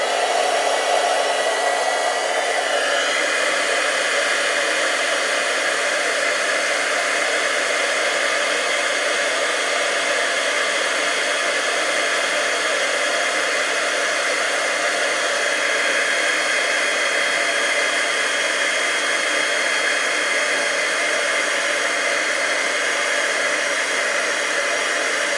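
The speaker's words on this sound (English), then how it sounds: "I'm just going to heat emboss that real quick to shine it up. So bear with me while I use my heat tool" A heat tool blows continuously over a stamped holiday card while melting embossing powder, a loud, steady close whoosh of hot air that holds unbroken for about 25 seconds.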